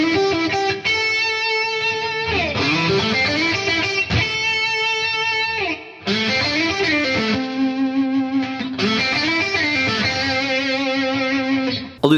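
Distorted electric guitar, an Ernie Ball Music Man Luke III, plays sustained, broken-up chords and bends, strummed in repeated phrases with short gaps, loud and effect-heavy, no voices.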